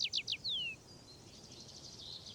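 Recorded spring birdsong plays back, a quick series of three bright chirps and a falling whistle, then softer trilling calls in the background.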